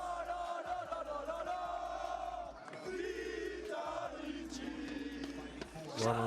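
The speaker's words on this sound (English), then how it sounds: "Vitality fans. Can you do the chant?" A crowd of Vitality fans chants together at an esports match, a loud, sustained roar of massed voices with rising shouts, heard amid streamer audio and background noise.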